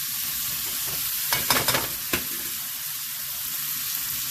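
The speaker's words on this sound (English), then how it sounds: "we want the ham to heat up and like get kind of like caramelize a little bit" Ham frying with breakfast potatoes in a pan, giving a steady close sizzle with a few sharper clatters and stirring scrapes partway through.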